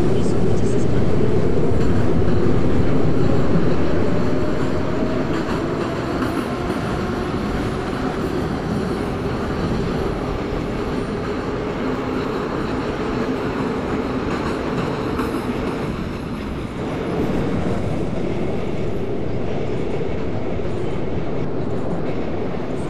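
A Moscow metro train running along the Zamoskvoretskaya line in the Trainz 12 simulation game, a loud continuous rumble and roar of wheels and motors that holds steady throughout, with a slight dip in the middle.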